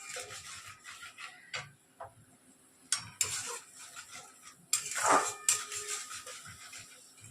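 A utensil stirs ground spices mixed with a little water in a cooking pan, producing irregular scraping strokes and occasional sharp metallic clinks against the pan, close and moderately loud.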